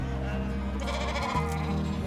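Icelandic sheep in a flock bleat loudly and close by, with overlapping wavering calls that run continuously.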